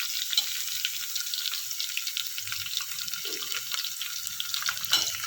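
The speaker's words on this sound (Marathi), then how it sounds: "लसूण आपल्याला तेलात चांगला परतून घ्यायचा आहे।" Garlic frying in oil for dal khichdi gives a soft, steady crackling sizzle with brief spits throughout.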